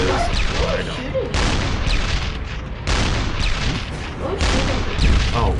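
Heavy bursts of machine-gun fire and booming impacts from a machine gun nest in a PS4 video game pound in loud waves, pausing briefly between volleys.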